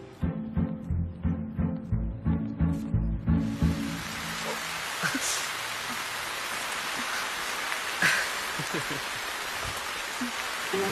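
Heavy rain pours down in a movie love scene, a dense steady hiss rising after a short stretch of talking and continuing alone.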